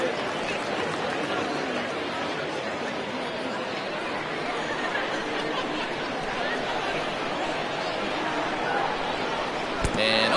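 A baseball crowd murmurs after a batter is hit by a pitch, a steady dense chatter of many voices filling the ballpark with faint laughter, while a commentator talks over it.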